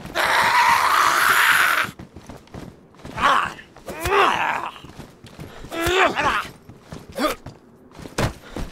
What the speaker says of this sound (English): You shrieking fool!